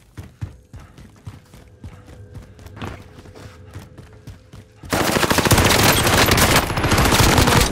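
Video game gunfire, with scattered single shots and short bursts at first, then a loud, continuous rattle of rapid automatic fire that dominates the second half, close and intense.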